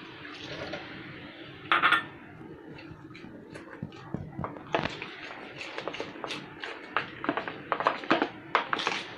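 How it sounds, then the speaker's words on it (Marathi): Water is poured into a batter of pea peels for bhaji, a close trickling and filling sound followed by a run of clinks and stirring taps against a bowl. "थोडं पाणी टाकते अजून"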